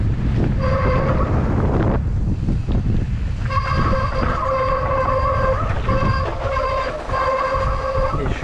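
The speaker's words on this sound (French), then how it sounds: "Désolé pour le bruit de mes freins." Mountain bike brakes squeal in long, loud, sustained tonal shrieks during a fast enduro descent at Saint-Sorlin, under steady wind rush and rolling noise, with a brief pause before the squeal returns and holds.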